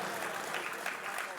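Hindi-speaking audience in the Swami Vivekananda Auditorium in Kolkata applauding, a steady wash of clapping at moderate level, fairly even throughout with no talk over it.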